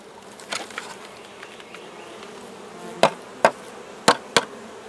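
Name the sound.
honey bees buzzing around hive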